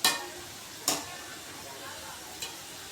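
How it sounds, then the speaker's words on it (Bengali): Stuffed palm gokul pitha frying in hot oil hiss along steadily, broken by three crisp clicks of a utensil against the pan at the start, middle and end. "একটু লাল করে ভাজা হয়ে গেলেই তুলে নিব।"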